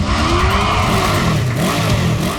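A motorbike engine runs hard and close, a loud continuous drone with wavering pitch as it revs and eases.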